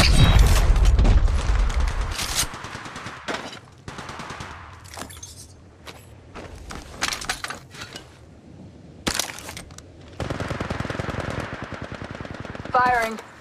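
Automatic weapon fire in the mobile battle royale game Apex Legends Mobile comes in bursts of rapid shots broken by pauses, with glassy breaking sounds mixed in. A game voice calls out at times between bursts.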